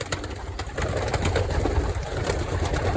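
Young sport pigeons coo softly in a loft or competition box, several low throaty calls overlapping close by with faint rustling and no talk.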